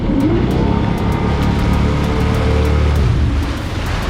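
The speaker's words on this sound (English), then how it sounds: "I'm just basically holding on for dear life as Lance hits the throttle" A motorboat engine throttles up hard to tow a wakeboarder, a loud close roar with rising pitch over rushing water, no talk.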